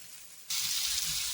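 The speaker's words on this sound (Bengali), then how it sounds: "তো এটা নামিয়ে আমি আলুটাকে ভেজে নেবো" Oil suddenly bursts into a loud, steady sizzle partway through, a close hissing crackle of potatoes frying with no voices.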